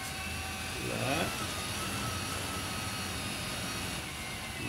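Two motors on a dual-rotor copter throttle up and down in alternation during an aileron test, giving a steady loud droning whir with shifting pitch, close by and continuous.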